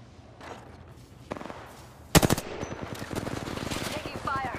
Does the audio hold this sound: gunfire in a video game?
yes